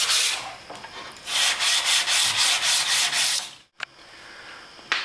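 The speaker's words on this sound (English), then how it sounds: "I'm going to sand it a little bit so it takes the finish" Sandpaper rubbing over a wooden poster frame in a rapid series of even back-and-forth strokes, close and loud, then a pause and one brief final scrape.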